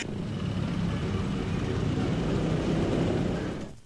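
Dense street traffic roars steadily, with engines and passing vehicles blending into a loud, continuous wash of noise that fades out at the very end; no distinct horn blasts stand out.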